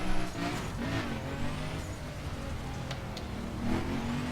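A car engine drives steadily in The Crew from the cockpit view, a low continuous hum with slight pitch rises as it accelerates, fairly even throughout with no talk.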